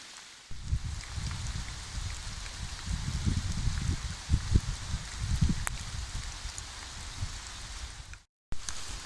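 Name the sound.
heavy rain falling while bikepacking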